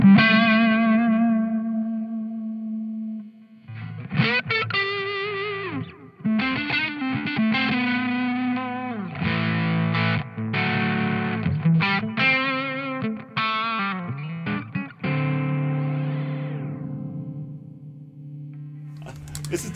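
A Mozztronics MD-1 Mew Drive overdrive pedal shapes an electric guitar into a saturated, distorted tone, with sustained chords and bent notes played over about twenty seconds, with no talking.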